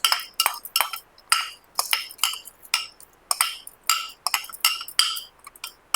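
Spices pounded in a stone mortar for a cabbage roti pachadi chutney, giving a steady series of sharp, close clinks and knocks in an irregular rhythm, with no talk.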